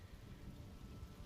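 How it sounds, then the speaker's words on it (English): Thunderstorm with rain in Diablo IV, a brief steady hiss of rainfall over a deep low rumble of thunder, fairly faint and continuous with no voices. "So let's enjoy the storm a moment."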